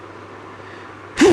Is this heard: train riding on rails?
no